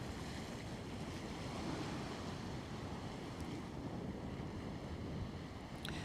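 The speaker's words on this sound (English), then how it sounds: "Enjoy the sound of the waves here." Ocean waves on a frozen, windy winter day at Coney Island beach in New York City, a steady roaring wash of surf mixed with wind buffeting the microphone, with no voices.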